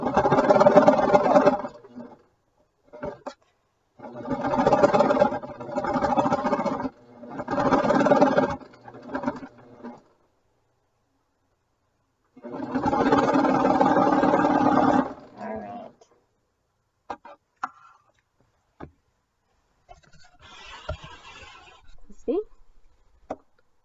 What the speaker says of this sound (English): So I have it all serged up